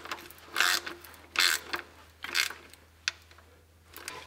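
A hand ratchet tightens an automatic transmission pan bolt in short, crisp bursts of clicking, about four separate strokes with pauses between, close and fairly quiet over a low steady hum.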